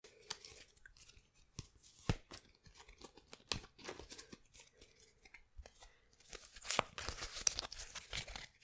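Crisp papery riffling and sharp snapping flicks of playing cards being shuffled, close up, with a louder burst of riffling toward the end.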